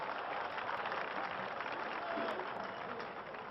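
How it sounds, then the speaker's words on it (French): A stadium crowd applauds at a 1974 African Cup of Nations football match between Congo and Mauritius in Alexandria, Egypt. The clapping is a dense, steady wash of crowd noise that runs for the whole short stretch. "Le public applaudit cette action."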